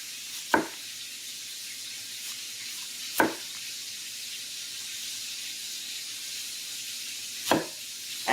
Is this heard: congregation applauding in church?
no